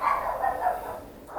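Dogs barking indoors in a home, a steady run of barks and yips close by, fairly loud and continuous with no talk over them.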